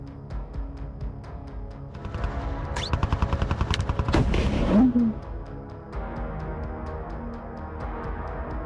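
Artillery guns of a Ukrainian brigade fire in the Kherson region in war footage, with a cluster of sharp repeated blasts and rumbling booms building to a loud burst midway, then fading back to a steady low background.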